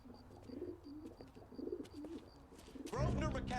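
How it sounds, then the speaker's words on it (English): Pigeons coo repeatedly in a city street scene from the video game L.A. Noire, soft rolling calls with a faint high chirp above, before a heavier burst of game sound and voice takes over near the end. "Oh, they were literal with the whole pigeon thing."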